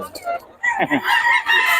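Roosters for sale at the Bocaue market crow loudly up close, a rough rising call following a few shorter clucks and squawks, with another crow trailing into the end.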